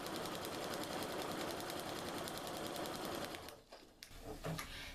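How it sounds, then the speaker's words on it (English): A sewing machine stitches a quilt foundation piece in a steady, fast, even mechanical whir close by, running continuously before slowing and stopping near the end, with no talk. "I'm going to start sewing about 3/8 of an inch away from the line"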